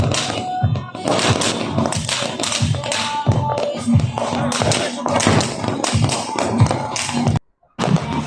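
Firecrackers going off outside a house at a resort on New Year's Eve, a loud, dense barrage of close popping bangs that ends in a sudden brief silence, with voices faintly mixed in.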